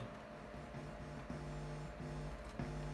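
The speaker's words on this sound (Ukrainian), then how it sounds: "Даю гучність і запускаю генератор" A StarSound JS2000 Plus class AB power amplifier under repair plays a signal-generator test tone through its right channel, heard as a buzzy tone that cuts in and out repeatedly over a low hum.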